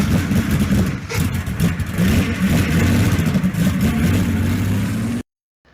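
A 1936 Austin 7 Ruby's small pre-war engine runs loudly and close, a steady throbbing drone with clattery texture that rises in revs partway, then cuts off abruptly near the end.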